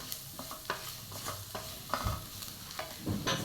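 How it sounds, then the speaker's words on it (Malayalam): Turmeric powder is sautéed in a pan for chicken mappas, with rhythmic spatula scraping and stirring over a gentle, close sizzle and a few louder knocks. "ഇനി ഇതിലോട്ട് കുറച്ച് മഞ്ഞൾപ്പൊടി നന്നായി വഴറ്റിയെടുക്കണം"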